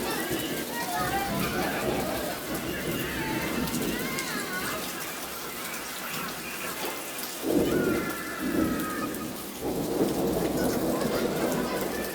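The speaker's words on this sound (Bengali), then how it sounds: "আমরা বৃষ্টির পানি ধরতেছি এখানে" Rain falls steadily with low rumbles of thunder, while voices talk and call out over the downpour.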